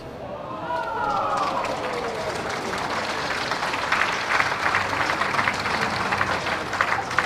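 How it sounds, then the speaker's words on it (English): Scattered applause from a crowd at a women's pairs lawn bowls final, steady and moderately distant, with faint voices underneath and a brief murmur near the start. "Some clapping there"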